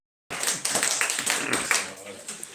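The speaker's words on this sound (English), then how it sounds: "So let's all have a round of applause for Zach." A small group at a Thetford Council Watch meeting claps, the patter of hands starting abruptly and continuing unevenly, fairly close and modest in volume.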